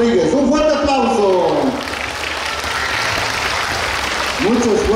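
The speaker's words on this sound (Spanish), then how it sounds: "¡Un fuerte aplauso!" Audience applause at an award ceremony for a goat broth (caldo de chivo) cooking contest, a dense crowd clapping throughout with cheering voices near the start and again at the end.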